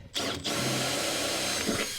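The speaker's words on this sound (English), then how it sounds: "So that hole's not big enough at the moment, so I'm going to drill it" A power drill bores a hole through the metal floor of a VW Crafter van, a loud steady whine that starts after a brief pause and runs continuously to the end.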